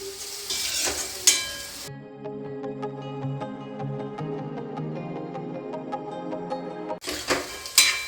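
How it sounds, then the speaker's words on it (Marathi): Onions and curry leaves fry in hot oil, sounding as a bright crackling sizzle at the start and again at the end. Tonal music fills the quieter stretch in between. "कढीपत्ता टाकून घेतला आता कांदे लाल होऊ देते छान"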